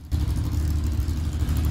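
A Peugeot 504 V6 Group 4 classic race car rumbles past with a deep, steady engine drone that starts abruptly and holds for under two seconds.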